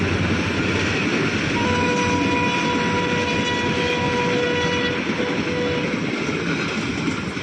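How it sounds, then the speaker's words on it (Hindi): A train passes by close and loud, a continuous heavy rumble of rolling wagons with a sustained horn-like tone sounding through the middle, steady from start to end. "अच्छा, रेलगाड़ी अभी जा रही है।"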